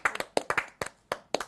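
A handful of people clap at a French-language evening talk show, a short sparse run of distinct hand claps close by with uneven rhythm and no voices over it.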